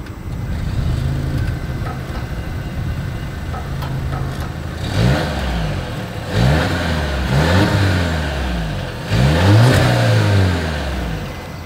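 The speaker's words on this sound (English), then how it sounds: "As always, here is that exhaust clip." A 2023 Volvo XC60 SUV engine revs repeatedly, several loud throaty exhaust bursts rising and falling over a steady idle, close by.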